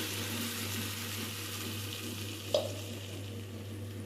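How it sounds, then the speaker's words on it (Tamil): Tomato paste for a tomato and drumstick kuzhambu bubbles and sizzles steadily in a pan, a constant soft hiss with one brief clink of a stirring spoon against the pan partway through. "நம்ம தக்காளி நல்லா கொதிச்சுட்டு இருக்குது"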